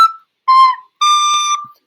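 A wind instrument sounds three separate clear tones one after another, each short and steady, the later two held longer, loud and alone with no talking.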